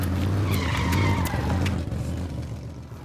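A car skids with tires squealing loudly, the high screech sliding and fading over a couple of seconds before the noise settles into a lower rumble.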